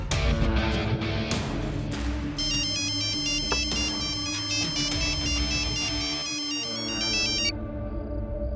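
A phone rings for an incoming call in a Hindi-dubbed South Indian action thriller, a repeating electronic ringtone melody that plays for several seconds over a low background hum and then cuts off.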